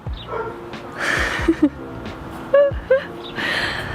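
A few short dog barks and yips, fairly close, scattered over steady outdoor background noise with some broadband rustle.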